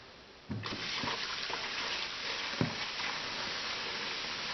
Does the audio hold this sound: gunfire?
no